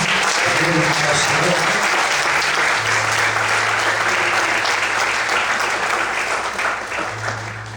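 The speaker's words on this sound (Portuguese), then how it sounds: "Você pode desocupar sua mão e aplaudir" A church congregation applauding, a steady loud wash of clapping throughout that tapers slightly near the end, with voices and a low sustained tone beneath.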